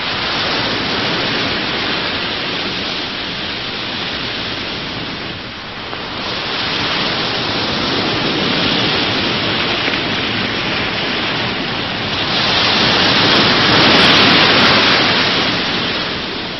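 Steady, dense rain pours through a storm near dunes by the sea, a loud continuous hiss that swells and dips slightly but never stops across the whole stretch.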